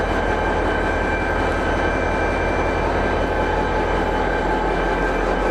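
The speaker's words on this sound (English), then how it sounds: "the train is about to depart" A double-decked DSB diesel locomotive train pulls out of Østerport Station in Copenhagen, a loud, steady rumbling drone with a constant engine hum that fills the whole stretch, with no talking.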